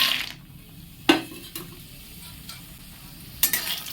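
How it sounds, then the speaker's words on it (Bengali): Lentil dumplings (bori) fry in hot oil in a wok, a soft continuous sizzle broken by a few sharp stirring clinks and scrapes of a utensil against the pan. "তেল প্রায় গরম হয়ে এসেছে বড়িগুলো ছেড়ে দেবো"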